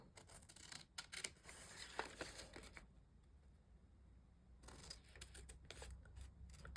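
Close, quiet scissors snip out a paper card topper in a string of quick cuts, then pause briefly before more rapid snipping resumes.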